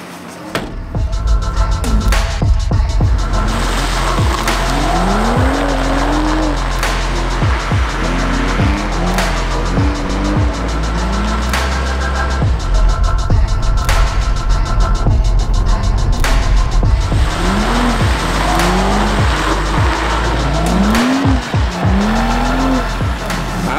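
A car drifting with eggs placed in its boot, the engine roaring loudly and steadily while the tyres squeal repeatedly in rising, wailing bursts as it slides through turn after turn.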